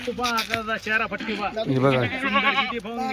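Kathiawadi goats bleat repeatedly up close, wavering cries overlapping one another in quick succession.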